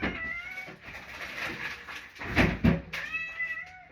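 Pet house cat meowing close by, several drawn-out harmonic meows in quick succession with a couple of soft knocks in between.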